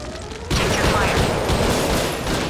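Dense, continuous gunfire erupts in the Judge Dredd video game after a quieter moment, a loud sustained barrage of rapid shots filling the scene.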